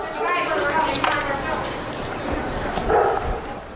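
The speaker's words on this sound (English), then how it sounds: "it was one of the president's German shepherds barking at the end of a meeting" A German shepherd barks a few times amid overlapping speech and background room noise at the White House.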